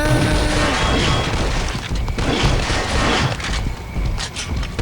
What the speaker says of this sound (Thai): ระเบิดมา